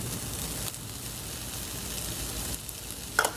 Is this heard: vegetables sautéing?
yes